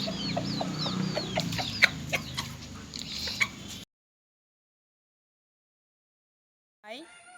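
Chickens cluck and call on a small backyard poultry farm, several sharp calls over a busy outdoor background, then a long silence and a brief final call.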